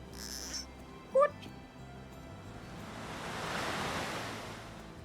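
Gentle sea waves wash and swell in a Visions of Mana game scene, a broad surf rush building over several seconds after a brief bright chime, steady and moderately near with no talk.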